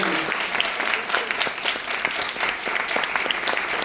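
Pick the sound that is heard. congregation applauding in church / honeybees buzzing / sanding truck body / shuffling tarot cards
congregation applauding in church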